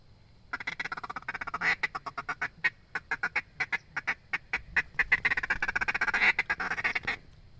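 Duck call blown to imitate a large flock's feeding chuckle, a rapid run of short clipped quacking notes in rolling bursts, loud and close with no talk over it.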